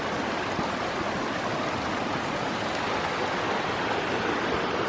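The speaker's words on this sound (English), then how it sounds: "just a regular old waterfall, river thing" Waterfall and river along the Alum Cave Trail, a loud, steady, broadband rush of falling and flowing water filling the whole span with no talking.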